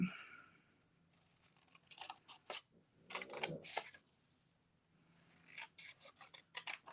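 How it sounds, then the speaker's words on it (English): Scissors snip the corners off cardstock in several short bursts of crisp rasping cuts, close and fairly quiet, separated by pauses. "we're actually going to cut these corner rectangles or squares off completely"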